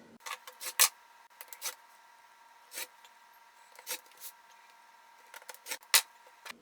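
Kaleidoscope quilt fabric panel is cut into strips, heard as quiet, close, irregular bursts of cutting and rubbing, with several crisp strokes separated by near silence.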